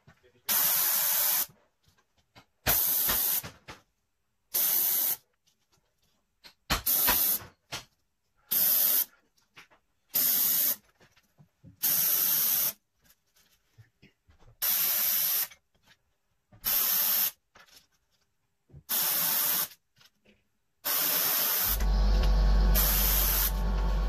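An airbrush sprays paint while rivets are painted, giving repeated short bursts of soft hiss separated by silences, about a dozen in all, ending with a longer steady hiss over a low rumble.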